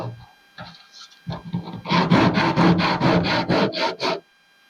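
Hand sanding across fiberglass on a Mustang II hood, a run of about ten quick, even rasping strokes that follow a few slower scrapes, close up with no talking.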